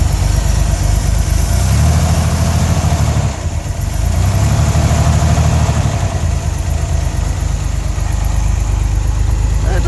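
A 1963 Chevrolet Corvair Monza Spyder with a turbocharged air-cooled engine idles rich after sitting unused for a long time, a loud steady close-up rumble with a brief dip in the middle.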